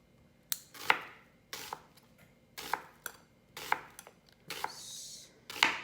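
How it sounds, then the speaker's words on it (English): A knife thinly slicing an onion on a cutting board, for Japanese nikujaga: quick clusters of crisp chops repeating in short bursts about once a second, close and moderately quiet, with no talk. "Onion, I'm going to do a thin slice on that."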